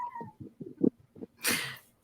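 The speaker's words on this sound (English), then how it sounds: "Oh, I hear a cat." A house cat meows several times in short, close, rising calls, followed by a brief breathy burst that sounds like a sneeze or hiss.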